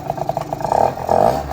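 A 20-year-old kick-started moped engine idles with a steady puttering rhythm, then the revs rise in two swelling bursts, loud and close, with no talk over it.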